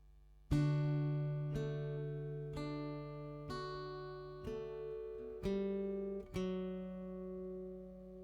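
Six strummed acoustic guitar chords from the G section of a song, evenly spaced about one per second, each ringing out bright and full before the next, with no talking.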